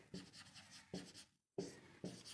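A pen writes on paper in short scratchy strokes during a class 10 maths lesson, with several brief bursts separated by pauses and a faint, close sound with no talk.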